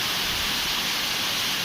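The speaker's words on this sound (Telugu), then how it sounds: "ఇది మన ర్యాలీ గడ్పూర్ వాటర్ ఫాల్స్ అనేది" Rally Gadpur waterfall near Mancherial roars as a steady, dense rush of falling water, loud and continuous with no voices over it.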